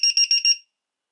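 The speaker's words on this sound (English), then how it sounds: "low voltage alarms, and they are quite loud" A low-voltage alarm on the balance charger cables of a DIY electric skateboard battery gives four loud, shrill electronic beeps in quick succession, then falls silent.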